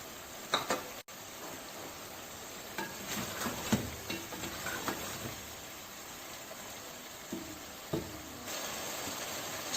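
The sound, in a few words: chicken being sautéed with yogurt and green chillies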